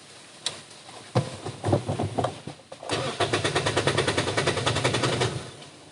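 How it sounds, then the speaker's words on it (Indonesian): A 2005 Toyota Vios's 1NZ-FE engine cranks with a few uneven turns, then fires and settles into a fast, rhythmic, throaty idle, close and loud. "Kita starter aja. Suaranya mesin 1 NZFE."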